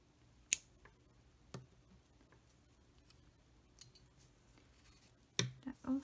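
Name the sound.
scissors cutting yarn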